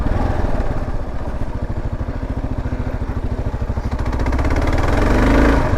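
Adventure motorcycle on TKC 80 tires crawling slowly through mud, its engine a steady close-up chugging putter with a rapid pulsing beat that swells louder toward the end.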